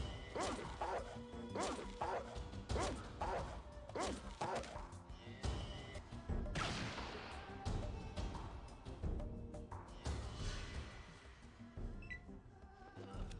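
Dogmeat, the dog companion in Fallout 1, barking in a run of short repeated yaps amid combat hits and crashes, with no talk over it.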